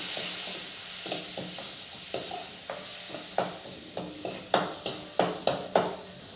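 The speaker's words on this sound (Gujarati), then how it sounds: "હવે આને એક વખત મિક્સ કરી લેવાનું" Kutchi bowl mixture with garam masala and jaggery-tamarind chutney being stirred in a pan, with a steady low sizzle and a run of spoon scrapes and taps that grow louder and sharper toward the end.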